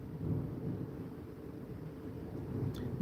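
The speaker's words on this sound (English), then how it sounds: "Let me know if y'all hear that thunder" Distant thunder rolls low and muffled as a steady rumble under faint rain hiss, quiet and continuous with no distinct crack.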